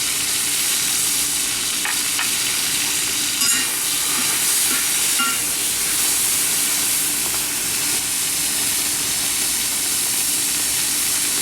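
Home-harvested garlic sizzling and frying with chicken in a very hot wok set on an outdoor grill, a loud continuous crackling hiss with occasional stirring clatter and no talking.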